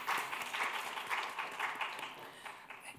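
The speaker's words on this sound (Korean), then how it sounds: "하나님께 영광의 박수 올려드리겠습니다" A church youth congregation applauding during a Sunday worship service: steady, dense clapping from many hands across a large room, sustained throughout.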